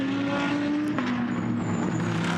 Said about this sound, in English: now you can hear the engines really getting going again